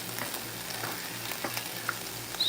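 Garlic frying alongside chicken pieces in a pan, giving a steady soft sizzle with faint crackles and occasional light stirring taps, fairly quiet and without voices.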